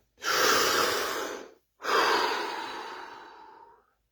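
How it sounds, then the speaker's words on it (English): Two long, deep breaths during a guided relaxation exercise, a full inhale followed by a slow exhale that fades, close to the microphone and heard alone in an otherwise quiet room. "Deep breath."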